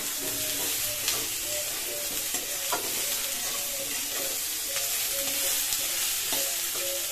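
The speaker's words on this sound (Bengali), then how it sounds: "আলুগুলো আমি একটু ফাটিয়ে নেব এই টমেটো আর পেঁয়াজের সঙ্গে।" Potatoes frying with tomato and onion in a pan, a soft continuous sizzle with intermittent stirring scrapes and taps, fairly quiet and close, without talk.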